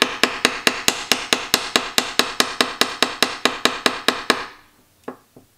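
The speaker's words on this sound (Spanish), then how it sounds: "lo que hago es darle unos golpes en la base contra la mesa para que se me igualen todas las puntas y se me queden totalmente alineadas" Feather bases tapped against a table to align the tips while tying a caddis fly: a brisk, even series of about twenty sharp close knocks, followed by a pause and two final taps.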